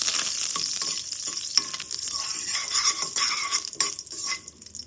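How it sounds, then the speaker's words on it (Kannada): Curry leaves crackle and sizzle in hot oil in a frying pan for a sweet pumpkin palya, with bursts of spitting and the scrape of a spoon stirring close by. "ನಾನು ಇದಕ್ಕೆ ಸ್ವಲ್ಪ ಕರ್ಬೇವಿನ ಸೊಪ್ಪು ಹಾಕೋತಾ ಇದ್ದೀನಿ."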